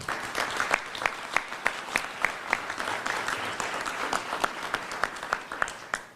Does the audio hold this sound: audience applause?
yes